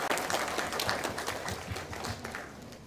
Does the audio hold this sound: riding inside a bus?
no